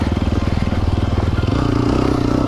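A motorcycle engine idles and burbles close by with a steady rapid pulsing, shifting in tone as the bike is turned around on the spot.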